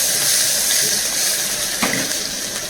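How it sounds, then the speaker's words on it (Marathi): Green chillies, garlic and curry leaves sizzle in a hot pan while being stirred, a steady broad hiss with a brief scrape partway through. "हिरव्या मिरच्या 2, लसूण, ते चांगलं आपण स्टीर करून घ्यायचं आहे"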